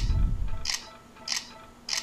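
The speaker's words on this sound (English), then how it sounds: "It just sounded like it was taking a lot more pictures." Nexus 4 smartphone camera shutter clicks three times at an even pace, crisp and close, over faint background hum.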